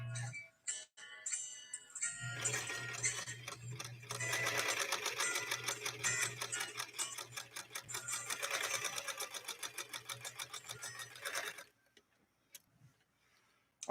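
A Singer Spartan sewing machine stitches 100% cotton fat-quarter fabric in a fast steady whirring run of about ten seconds, preceded by short clicks and a brief start, then stopping to near silence.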